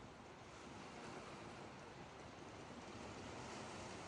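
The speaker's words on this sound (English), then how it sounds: "You hear all of the waves crashing against the shore, echoing against the structure." Waves crash continuously against the shore below an abandoned concrete hotel in Montenegro, the surf roaring as a steady, loud wash that echoes off the concrete structure, with no voices.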